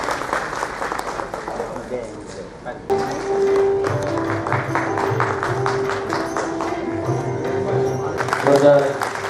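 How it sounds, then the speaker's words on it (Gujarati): Audience applause at a community gathering honoring the Dashnam Goswami Samaj in Gujarat, a sustained burst of clapping that swells around three seconds in and continues steadily, with a voice and tonal sound running beneath it. "જોરદાર તાળીઓના ગડગડાટ સાથે આપણે વધારીએ."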